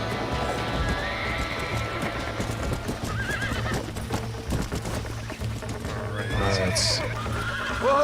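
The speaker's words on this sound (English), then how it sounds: "It's a unique horse, so I better unique up on it. It's not a tame one." In the Red Dead Redemption video game, an untamed unique wild horse whinnies and neighs loudly over steady hoofbeats and game ambience, while a player briefly talks.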